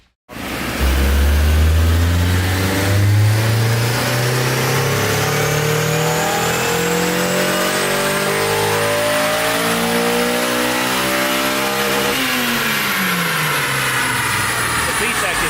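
A Honda S2000 engine on a dyno, loud and close, sweeping up through the revs in one long pull toward redline, then holding and dropping off near the end with a sustained exhaust roar.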